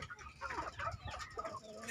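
Chickens cluck in a coop after their evening feed, a breeding flock of hens with roosters, with several overlapping close clucks and calls running steadily throughout.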